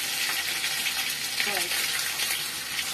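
Fish roe drops into a hot pan and fries with a bright, continuous hiss and sizzle that stays steady and close.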